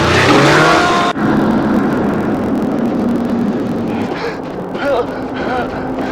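A snowmobile engine revs while riding across snow in Antarctica, a loud close motor roar that drops sharply after a second and continues as a steadier drone, with speech over it.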